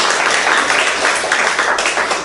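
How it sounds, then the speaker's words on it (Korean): Church congregation applauding during a worship service, a dense steady clapping that stays fairly loud and even for a couple of seconds. "은혜 받은 사람 박수 칩니다."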